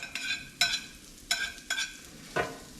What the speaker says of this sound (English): Now that our garlic has got a little bit of roast to it, we're going to add our celery, onion and carrots.